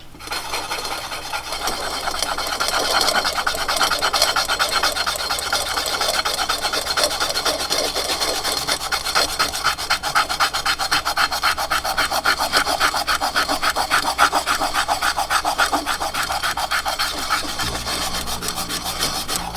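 Steady, continuous rasping scrub of a rust eraser rubbed hard over a rusty cast iron pan, loud and close, running unbroken with quick back-and-forth strokes and no talking.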